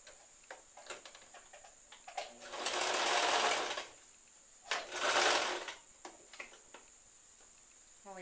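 A sewing machine runs a straight seam on pajama fabric in two short, loud bursts of rapid mechanical stitching. Quiet ticks and handling clicks fill the pauses between them.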